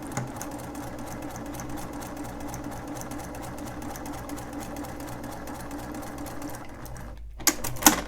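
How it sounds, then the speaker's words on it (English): Sewing machine stitching quilt pieces, a steady fast mechanical whir and clatter running continuously at close range, pausing briefly near the end before a couple of clicks. "So first I'm going to go ahead and just sew the bottom one."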